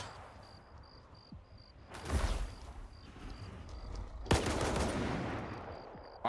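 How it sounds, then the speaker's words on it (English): Bursts of video game gunfire crack out over a steady hiss and a high, pulsing insect-like chirp, two louder volleys standing out from the background. "I heard gunfire"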